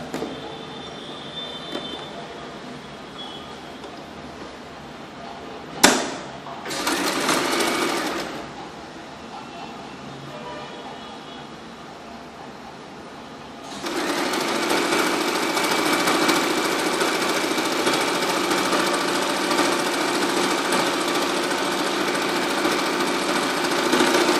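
A sewing machine stitches over folded fabric corners, a short sharp burst and brief run early on, then a long, loud, steady whirring stitch that continues to the end.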